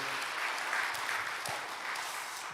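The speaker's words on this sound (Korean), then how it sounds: "축복의 박수, 환영의 박수 드리겠습니다" A church congregation at a Korean Presbyterian Sunday service in Detroit gives warm, sustained applause welcoming a newcomer, an even patter of many hands at moderate distance.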